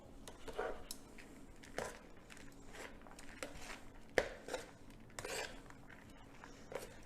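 Chicken Caesar pasta with romaine lettuce and cheese is tossed in a big bowl: scattered soft scrapes and sharp clicks of a utensil against the bowl, irregular and close, with no talking.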